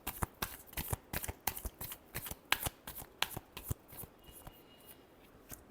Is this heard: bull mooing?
no